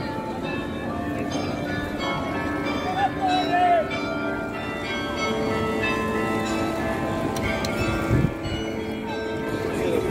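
Church bells ring from a tower in Bruges, Belgium, a continuous resonant peal sounding over street ambience, with people talking nearby throughout.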